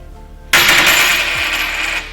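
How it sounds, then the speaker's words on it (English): Handful of coins shaken and rattled in the hand, a sudden bright jangling burst that keeps clinking steadily for about a second and a half before stopping, close and alone. "you want to pick them up in your hand and give them a rattle there, see what they sound like"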